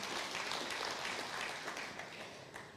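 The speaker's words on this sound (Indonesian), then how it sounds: "berikan tepuk tangan yang meriah buat Tuhan" A congregation claps during a church-style worship talk, a broad, continuous wash of many hands heard at a moderate distance, steady and then tapering slightly.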